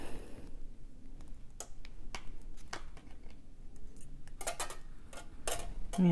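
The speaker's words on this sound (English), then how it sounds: "that noise is just the wire hitting my light up here" Jewelry wire being wrapped around a briolette bead taps against a desk lamp overhead, giving faint irregular light ticks and clicks scattered through quiet room noise.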